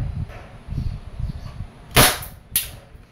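A 700 FPS Umarex Beretta APX airgun fires two sharp, close cracks about half a second apart, following soft low rumbling handling noise.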